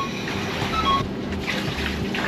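Water drains out after washing, with a steady close wash of running and trickling noise over a faint low hum and no voices.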